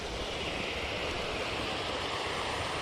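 Water rushes continuously through a natural canal in a steady, even flow, a dense broadband babble like a running stream, with no voices or breaks.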